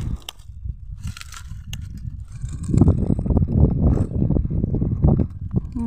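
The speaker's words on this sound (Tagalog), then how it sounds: "Ito ang lakas ng hangin." Strong wind blows hard against the microphone as low, gusting rumbles and buffeting that swell louder after the first few seconds and keep surging to the end.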